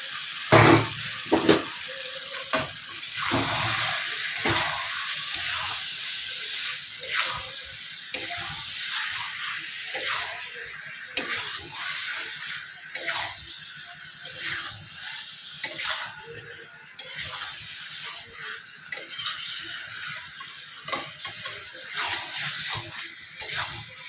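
Jackfruit and prawn curry sautéing in a pan, a continuous soft sizzle broken by frequent spatula scrapes and clinks against the metal, close by, with occasional faint voice in the background.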